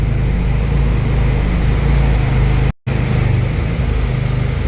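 A Nissan 240SX with a tuned SR20DET engine, running very rich, revs on dyno rollers in a loud, steady mechanical drone that cuts out for a split second before resuming.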